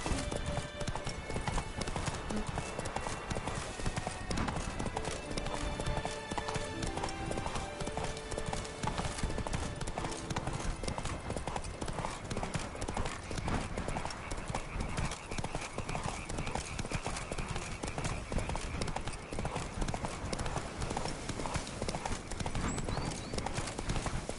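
Roach the horse trots through Beauclair in a video game, its hooves clip-clopping in a steady, even rhythm for the whole stretch, with a few soft whinny-like sounds mixed in.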